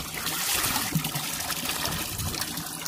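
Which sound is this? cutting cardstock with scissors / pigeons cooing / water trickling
water trickling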